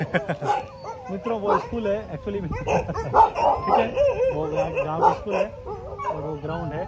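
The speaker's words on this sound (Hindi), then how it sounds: "कुत्ते इतने भौंक रहे हैं कि यार बहुत भौंक रहे" Several dogs in a Thai village bark and yip repeatedly from nearby, near a rural school ground. Someone talks continuously over the barking.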